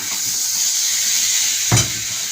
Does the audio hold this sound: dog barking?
no